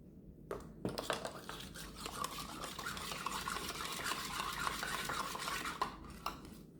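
A spoon stirring milk with cream of tartar in a bowl for jam tart dough, a busy scraping and clinking rhythm of metal against the bowl, close and steady, with no voice over it.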